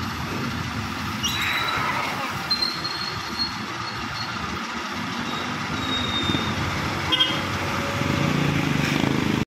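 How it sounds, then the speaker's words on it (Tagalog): A large truck pushes through deep floodwater left by Typhoon Carina, a steady low rumble and sloshing churn that rises toward the end, with faint metallic squeals over the engine drone. "Ayan, may papasok na truck."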